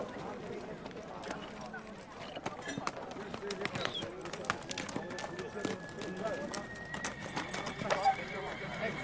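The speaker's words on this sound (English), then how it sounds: "Now they're asking to test ride my biggest horse, Martin." A horse neighs and its hooves clip-clop along at a steady pace as it is ridden in Central Asia, with birds chirping faintly in the background.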